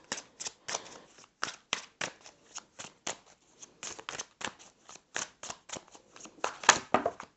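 Tarot cards riffle and snap in quick, uneven bursts, shuffled close by over several seconds with no talking.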